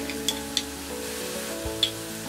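Asafoetida drops into hot oil in a pan for tomato rice, giving a soft continuous sizzle with a few sharp clicks of a spoon against the pot.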